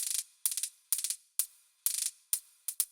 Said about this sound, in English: I kept the sample, but I added a bit vocoder and compressed it a little bit, so it sounds like this now